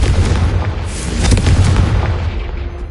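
A Confringo blasting spell from Hogwarts Legacy explodes in a loud, close boom, a heavy low-end blast that sustains and rolls on for a few seconds with no voice over it.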